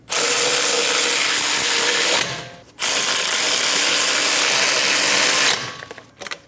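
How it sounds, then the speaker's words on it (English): A power tool ratchets Dodge Durango caliper bracket bolts snug on the 5.7L V8 front end: two loud, sustained buzzing bursts of about two seconds each, separated by a short gap, then a few trailing clicks. "Snug the bolts down."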